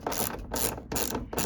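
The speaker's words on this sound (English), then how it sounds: "Take your 10mm socket and start undoing the bolts." A 10mm socket ratchet clicks in quick, even bursts while undoing wing mirror bolts on a van, three or four close, crisp runs of ratcheting with brief pauses between strokes.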